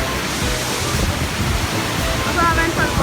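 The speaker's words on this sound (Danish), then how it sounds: "Og det er bare sådan mega pænt vandfald." Pænt waterfall in Austria roaring steadily as a broad, continuous rush of falling water, close and fairly loud throughout, with no talk over it.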